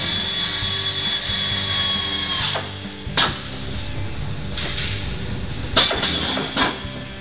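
A power drill whines in long steady runs and then short bursts as screws are driven to fix a bracket to the floor of a 1982-92 Camaro/Firebird, loud and close, with no talking.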